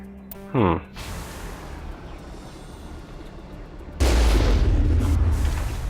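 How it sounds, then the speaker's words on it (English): The ship's cannon in Mass Effect fires with a short descending whine, then a heavy booming blast lands and rumbles loudly, holding on as a deep sustained roar to the end. "Well, the cannon definitely works."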